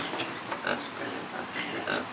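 Island pigs oink and grunt in short, soft, scattered bursts over a steady rustling background, moderately close with no talking.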